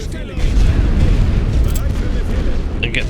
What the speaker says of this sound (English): I'll suppress that with some heavy barrage.